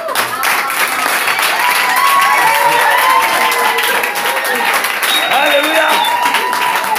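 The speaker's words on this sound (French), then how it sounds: "Applaudissons pour le Seigneur." A congregation applauds during a church worship service, steady loud clapping from a crowd that runs without a break, with scattered cheers and voices mixed into the clapping.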